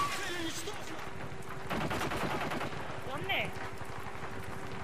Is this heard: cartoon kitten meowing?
no